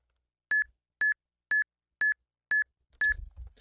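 Eon Timer countdown beeps for a Pokémon Ruby and Sapphire soft reset: six identical short electronic tones at even half-second intervals, the last followed by a brief rumble.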